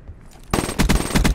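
Rapid automatic gunfire in a 2v2 shooter video game, loud close bursts of repeated shots firing in quick succession after a brief quieter lead-in.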